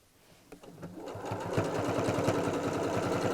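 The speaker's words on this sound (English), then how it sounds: "I can go a longer stitch now on my sewing machine." A sewing machine starts up and runs steadily on a longer stitch through felt, its rapid mechanical stitching rattle close and continuous after a few slow initial stitches.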